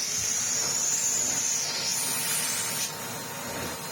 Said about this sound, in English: I can vacuum the floor with him for the first time since we pulled it out of the Skip.